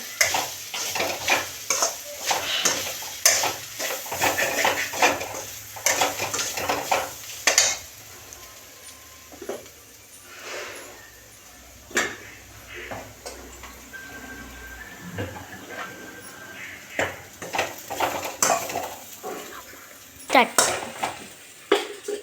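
Onion and grated coconut fry in a pan while a spatula stirs and taps it, producing a steady sizzle broken by frequent clattering knocks over about twenty seconds, fairly close, with a faint voice in places.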